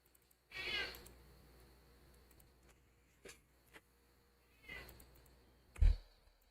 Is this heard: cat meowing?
yes